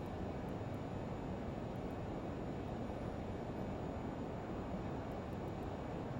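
A Lear 35 jet climbs after takeoff in a flight simulator game, its engines a steady, dense broadband roar with no break in level, and a few faint clicks sound briefly on top.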